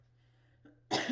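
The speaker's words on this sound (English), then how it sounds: "Sorry, I keep coughing." A single loud, harsh cough bursts out near the end after near silence, broadband and abrupt, close to the listener.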